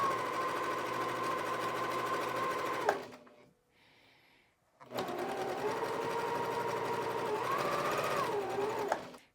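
A sewing machine chain-pieces quilt squares in two long runs of rapid, loud whirring stitches, separated by a short quiet pause near the middle.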